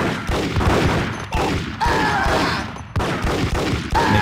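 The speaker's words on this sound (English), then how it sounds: "Make the whole screen shake when we shoot the deagle." A Desert Eagle pistol fires in the Max Payne video game, loud heavy shots repeating about every second and a half, each followed by a short ringing tail.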